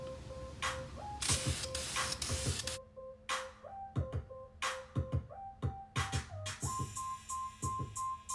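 Car wheel rims being spray painted in light coats, with short bursts of aerosol hiss separated by pauses and clicks, close and fairly quiet over a faint steady tone.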